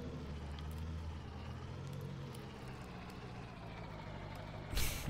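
Heavily loaded 500-horsepower pickup truck engine in Farming Simulator 19, a low steady drone labouring under the load, with a short sharp hiss near the end.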